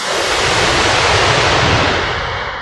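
Ocean surf rolls in a steady, loud broadband wash that barely changes across the moment, a continuous roar of breaking waves with faint wind, no voices.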